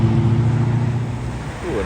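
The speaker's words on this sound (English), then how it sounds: "Pure muscle car there." A muscle car passes at a supercar arrival event, its heavy, loud engine rumble strongest at the start, easing slightly midway, then swelling again near the end.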